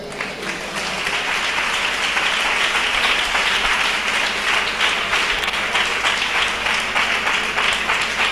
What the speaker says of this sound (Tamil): கைதட்டுக.